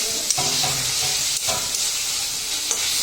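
A fish head sautéing in a pan gives a steady, close sizzle and frying hiss, with a few brief scrapes and clinks of stirring against the pan.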